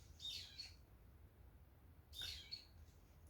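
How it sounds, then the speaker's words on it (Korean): Birds chirping in short bright squawky bursts, two clusters of calls a couple of seconds apart, fairly close and clear over a quiet low background with no talk. "새소리가 지저귀면서"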